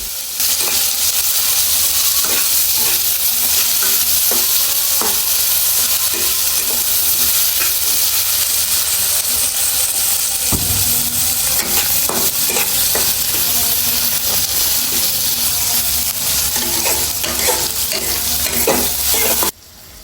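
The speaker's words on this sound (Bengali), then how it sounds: "এর মধ্যে দিয়ে দেব কেটে রাখা পেঁয়াজ ও মরিচ কুচি এগুলো আমরা নেড়ে চেড়ে একটু ভেজে নেব" Chopped onions and green chillies sizzle loudly in hot oil for radish greens, with a continuous frying hiss, intermittent stirring clicks and scrapes, and a sudden louder burst midway.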